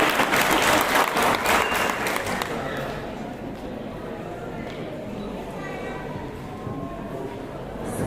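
Audience at a community association installation ceremony applauds loudly for about three seconds, then the clapping thins and tails off while a speaker talks over it.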